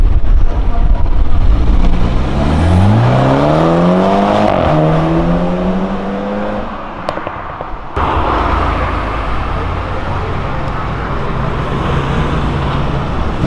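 A BMW accelerates along Avenida Europa, its engine note climbing in rising sweeps through several gears before settling into a steady roar amid road noise.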